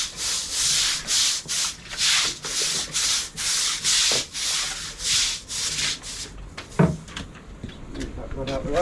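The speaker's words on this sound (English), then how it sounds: "Let us scrub." A blocked sink gully drain is scrubbed with vigorous, rhythmic brushing strokes, loud and close, that break off near the end, where a short vocal sound and some clatter follow.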